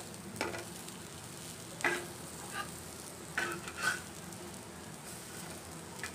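Sweet potato cutlets fry quietly in a pan after being flipped. A low sizzle runs underneath, broken by several faint scrapes and taps of a spatula.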